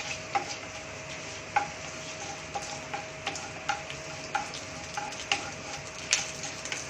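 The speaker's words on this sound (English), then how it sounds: "add 2 to 3 pieces of clove and fry them" Two or three cloves fry in oil over a medium flame, the first step of a cabbage Manchurian, a steady soft sizzle with small regular ticks and clicks from the pan.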